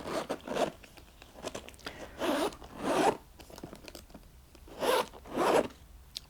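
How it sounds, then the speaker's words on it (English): A zip on a new Coach bag is pulled open and closed several times, giving close, loud rasping strokes in a steady back-and-forth rhythm with brief pauses between them; no talking. "Okay, so the zip is nice and smooth."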